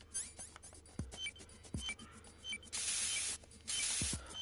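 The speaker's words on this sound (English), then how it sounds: "Use the right stick to control the spray amount." Coolant spray hisses in bursts from a handheld sprayer onto a bomb in Metal Gear Solid 2, with two long sprays near the end, between short clicks and mechanical ticks.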